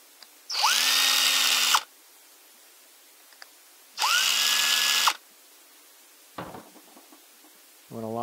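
Power drill driving screws into a rifle carry handle, two loud whirring bursts of about a second each that rise in pitch and then hold steady, followed by a few close clicks and knocks.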